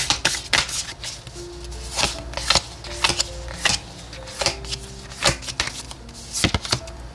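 Oracle tarot cards are shuffled in quick, repeated bursts of crisp riffling and slapping, close and clear, with short pauses between handfuls and no talking.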